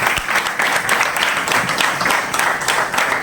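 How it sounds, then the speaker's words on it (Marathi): Loud crowd applause at a Marathi community gathering, a thick wash of many hands clapping with faint rhythmic pulses, sustained throughout without speech. "अर्चनाताई आणि आसिफबाई यांच्यासाठी एकदा जोरदार टाळ्या"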